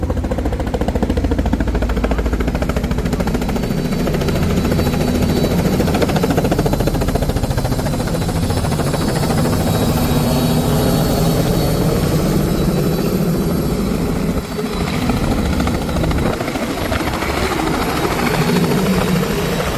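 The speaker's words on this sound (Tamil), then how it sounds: "கேலி வந்து இப்போ திருப்பி வருது இறக்குறதுக்கு இதுக்குள்ள வருது" A helicopter comes back in to land at a wedding in Jaffna, its loud, close rotor roar and engine whine steady and unbroken throughout, with no voices.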